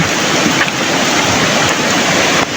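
A strong river current roars continuously, loud and close, with a broad hissing wash and some wind buffeting.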